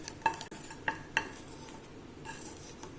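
Asafoetida lump frying in a pan with rasam powder spices, giving a soft, steady sizzle broken by a few sharp clinks of a spoon stirring against the metal pan.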